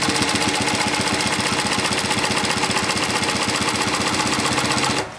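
An AtlasUSA AT2810D direct-drive post-bed industrial sewing machine with roller foot stitching at speed, heard as a loud, close, steady rapid mechanical chatter that runs evenly for about five seconds and then stops abruptly.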